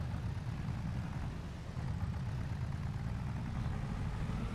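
A Steyr tractor engine in Farming Simulator idles continuously with a low, steady, rough rumbling drone, constant in level and with no voices.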